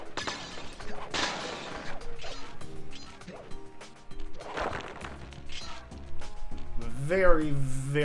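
Objects and glass shatter and smash in the video game Sly Cooper and the Thievius Raccoonus, with several sharp crashes and breaking bursts spaced through the stretch over game music, followed by a rising tonal effect near the end.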